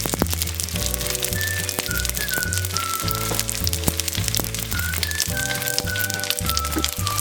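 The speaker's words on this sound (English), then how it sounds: "we're going to pan fry our mandus now" Shrimp and pork mandu dumplings pan frying in hot oil over low heat, giving a steady, close crackling sizzle throughout beneath a prominent background music track.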